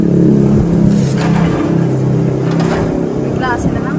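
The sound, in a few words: car engine running before being switched off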